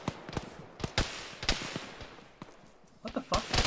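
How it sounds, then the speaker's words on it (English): Irregular video-game gunshots crack in short bursts and single reports, some sharper, others softer and farther off, scattered across a few seconds. "Gunfire to our northeast."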